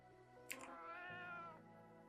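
A white cat in the Roblox game Prospecting gives a single drawn-out meow, clear and close, rising and then fading over about a second, with no talking over it.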